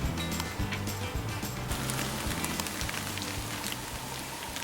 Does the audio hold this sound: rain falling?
yes